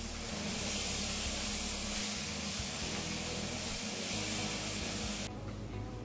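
Chicken sizzles steadily in a pan with spices and green chillies, a constant hissing fry with no talk, the sound shifting slightly at the end.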